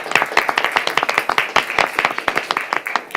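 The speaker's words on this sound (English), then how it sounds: "Let's give her a round of applause" Clapping from a small council-meeting audience welcoming back the city clerk, Kristen Garcia, sharp distinct hand claps in a quick irregular rhythm, fairly close, without talk, lasting a few seconds.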